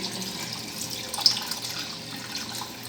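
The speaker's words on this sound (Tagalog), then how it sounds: "I'm going to add water" Water running into a cooking pot of pork caldereta, a steady soft splashing pour from a tap with faint trickles, close and alone with no talk.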